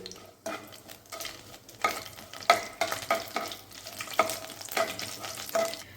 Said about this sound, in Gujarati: અહીંયા મેં બધા ખડા મસાલા લીધા છે, જાવંત્રી, તીખા, લવિંગ, તમાલપત્ર અને એક સૂકું મરચું, તેને ઉમેરી દઈશું અને થોડીક વાર માટે આપણે એને સાતળી લઈશું